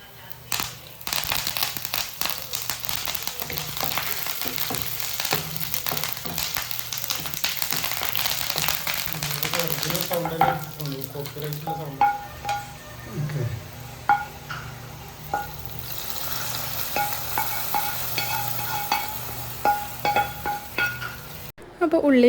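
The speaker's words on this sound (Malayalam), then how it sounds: "ഈ ഉള്ളി നന്നായിട്ടൊന്ന് മൂപ്പിച്ചെടുക്കണം." Sliced onions and curry leaves fry in hot oil for a Kerala tapioca and fish curry dish: a continuous close sizzle, stirred with scraping utensil strokes and light metallic clinks, easing to a quieter crackle in the later half.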